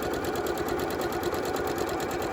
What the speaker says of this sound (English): I'm going to sew along this long edge a 1/4 inch seam